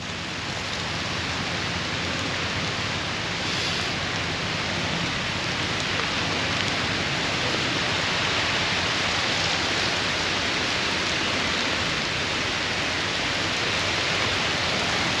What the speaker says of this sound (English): you think, oh, it's raining over that way.